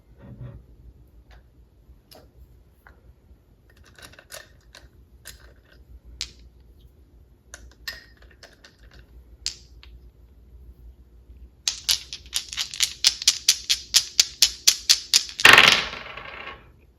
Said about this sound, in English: let me roll the extra dice and then we'll get some letters